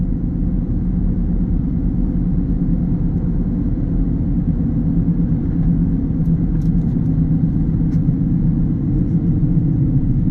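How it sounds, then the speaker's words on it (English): Inside a Ford Bronco Sport Big Bend on off-road tires, a steady low road rumble and tire growl drone continuously while driving, with faint engine hum underneath. "Now you're gonna get a little bit of a growl with these off-road tires."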